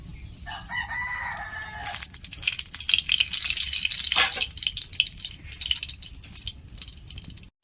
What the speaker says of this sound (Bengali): তেলটা কিন্তু গরম হয়ে গেছে। এখানে আমি দিয়ে দিলাম একটা তেজপাতা আর দিয়ে দিলাম শুকনো লঙ্কা।